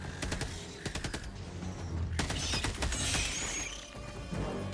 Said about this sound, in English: Don't shoot your friend this time, Trisha.